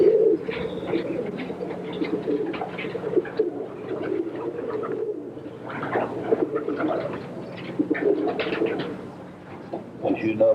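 Roller pigeons in a breeder loft with fifteen nesting boxes, a dense chorus of low, throaty cooing that rolls on continuously nearby, with faint rustling and occasional wing noise.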